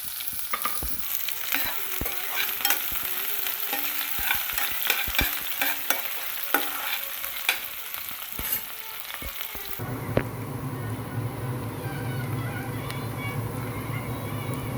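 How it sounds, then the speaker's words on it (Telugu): Chopped onions go into hot oil with urad dal and mustard seeds for a Telugu-style tempering, with sharp stirring clatters and crackle at first, then a denser, steady sizzle as the pan fries on without talk. "మినప్పప్పు కొద్దిగానండి ఎక్కువ వేసుకోకూడదు ఆవాలు తర్వాత చిన్నగా కట్ చేసుకున్నాం కదా ఉల్లిపాయ ముక్కల్ని వేసుకోవాలి"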